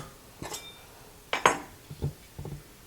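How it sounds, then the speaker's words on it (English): A spoon scraping the flesh out of a baked potato skin for taco-stuffed potatoes, heard as a few light metallic clinks and scrapes against a dish, spaced irregularly and close by. "we're going to take a spoon, we're going to pull out very carefully, we're going to scrape the potato"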